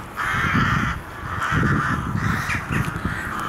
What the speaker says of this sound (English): And an awful lot of crows,